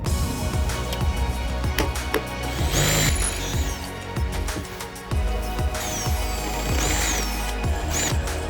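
A power drill bores holes for rivet nuts in metal while a roof rack is built, with loud sustained whirring bursts that rise and fall, separated by brief pauses and mechanical clatter.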